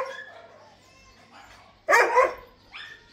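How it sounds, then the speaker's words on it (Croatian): Caged dogs at a market shop give off whimpers and yips, then one loud, close bark with a shorter yelp after it, over a quiet background. "Pogledajte kako oni psi prodaju, znači tu su po kavezima, svuda, po dućanima."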